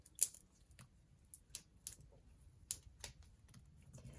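Sharp scissor snips and clicks come in an irregular series, about a dozen quiet cuts close by through chunks of houseplant soil mix, against a near-silent background.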